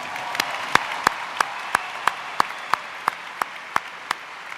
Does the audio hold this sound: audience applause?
yes